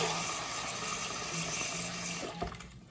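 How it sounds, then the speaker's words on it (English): Water runs steadily from a bathroom tap into a cup, a continuous broadband rush with faint low tones, then a brief clunk near the end as the flow changes and thins out. "Fill it up with water."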